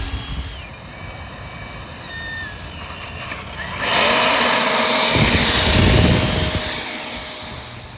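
Electric motors on an RC B2 bomber with twin Avian ESCs whining at low throttle, then surging abruptly into a loud sustained roar that holds for a few seconds before tapering off, near and steady with no talk.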